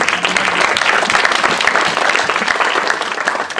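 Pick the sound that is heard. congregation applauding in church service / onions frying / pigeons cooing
congregation applauding in church service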